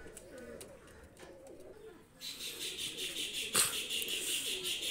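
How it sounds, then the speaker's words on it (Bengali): Pigeons of a racing bloodline coo softly nearby, low murmuring calls repeating under a faint background hiss that rises partway through, with a brief sharp rustle. "একটা নিউ রানিং কবুতর নিয়ে আসলাম, সাকিব ব্লাড লাইনের কবুতর"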